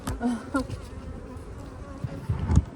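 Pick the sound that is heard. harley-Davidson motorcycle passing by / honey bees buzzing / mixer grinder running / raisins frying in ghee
honey bees buzzing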